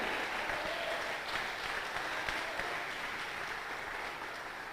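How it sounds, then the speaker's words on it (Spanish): Congregation at a church service claps loudly for Jesus of Nazareth, a dense, steady wash of applause holding throughout with no voices over it. "dele un aplauso fuerte a Jesús de Nazaret"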